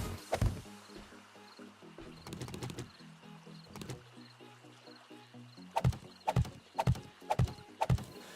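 Pickaxe blows striking boulders in the survival game 7 Days to Die: sharp, loud impacts, first spaced apart, then a quick run of five or six strikes near the end, over a low repeating mechanical background.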